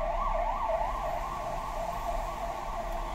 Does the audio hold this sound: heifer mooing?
no